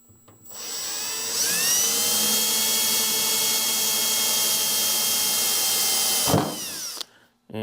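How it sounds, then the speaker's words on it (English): A small electric drill with a tiny bit spins up and whines steadily for about five seconds, loud and close, then stops abruptly with a brief clunk. "And drill my holes."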